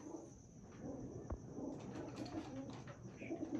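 Soft, low pigeon cooing repeats over a quiet background hum, with a brief thump partway through and the cooing growing a bit fuller toward the end.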